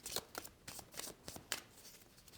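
A deck of boat cards from the board game Conservas gets shuffled, a quick run of crisp riffling flutters and taps in short bursts, close up and quiet with no talking.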